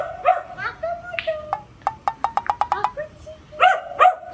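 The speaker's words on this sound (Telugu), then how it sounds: "శ్రీముఖి అప్పుడప్పుడు ఇట్లా కుక్కలతో కూడా మాట్లాడుతూ ఉంటుంది" A dog barks repeatedly in quick yips, a fast run of sharp barks in the middle and a few more at the end, close by with some background voices.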